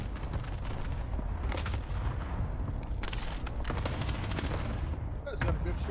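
Continuous loud gunfire and explosions in a Call of Duty match with a Grau rifle, dense bursts of automatic shots layered under battle noise, with players talking throughout.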